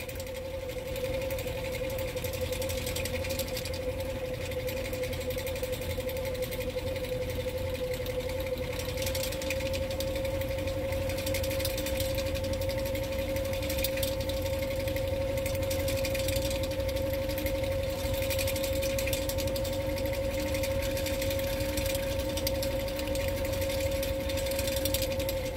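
A spin bike pedalled at about 60 RPM drives an old hoverboard hub motor used as a generator, giving a steady, continuous mechanical whir with a constant tonal hum that holds level and close throughout.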